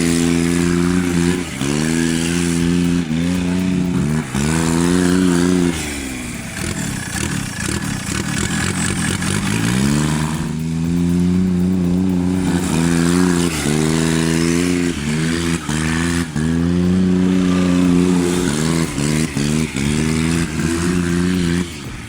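A 2004 John Deere Gator with a Yanmar turbo diesel engine works hard while stuck in mud. The engine revs repeatedly in rising and falling surges, loud and close, with a clattery mid-pitched drone between pushes.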